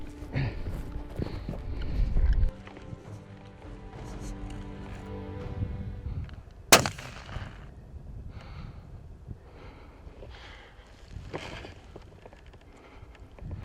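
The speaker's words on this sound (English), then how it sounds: "Stand up and shoot him." A single rifle shot cracks out while hunting outdoors, one sharp loud report midway through a quiet stretch of rustling and movement, followed by a brief fading echo.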